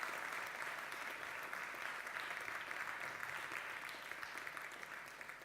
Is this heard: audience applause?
yes